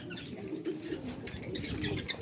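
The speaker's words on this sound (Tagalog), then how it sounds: "Ito yung mga ibon niya." Several racing pigeons coo softly and overlap nearby inside a loft, with faint chirps and a low murmur of birds in the enclosed space.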